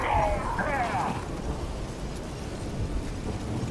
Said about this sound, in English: A magic explosion of some sort. So powerful that even the echo was dangerous.